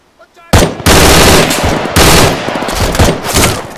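Loud, dense automatic gunfire in the military game Arma 3, sustained near-continuous bursts of several weapons firing at once after a quiet opening, close and overwhelming.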